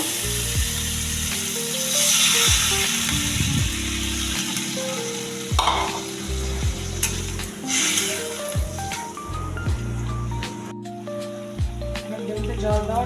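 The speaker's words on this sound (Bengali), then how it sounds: "ডিমটা কষা হয়ে গেছে এবার আমি জল দিয়ে দেবো" Spicy egg kosha cooks in a pan as water is poured in, giving a steady sizzle and bubbling with stirring scrapes, close up, while background music plays throughout.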